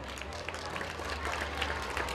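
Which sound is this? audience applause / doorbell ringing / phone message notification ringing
audience applause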